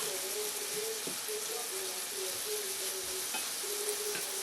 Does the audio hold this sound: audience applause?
no